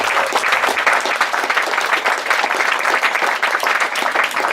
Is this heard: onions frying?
no